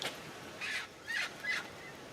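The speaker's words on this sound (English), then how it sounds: "There's guinea fowl or birds." Guinea fowl calling in a few short, harsh bursts, evenly spaced and fairly distant, over a quiet outdoor background.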